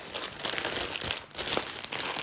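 Crackly plastic packaging around a crochet and knitting magazine crinkles and rustles as it is pulled open, a busy close-up stream of crisp crackles with a few sharper snaps.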